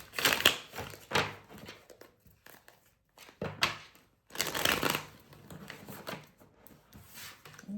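A deck of tarot cards is shuffled close up in several riffling, rustling bursts separated by short pauses, loud and crisp, with no speech.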